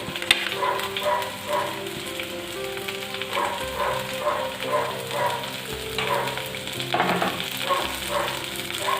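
Shallots and onion sauté in a hot pan with a steady close sizzle and occasional stirring scrapes, no voices, while cooking a beef dish.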